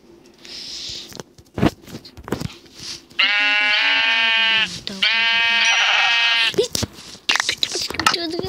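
Sheep bleat in Minecraft, played with a Dragon Ball mod: two long, wavering electronic bleats sound loud and close, set among short clicks and game noises, with someone talking around them.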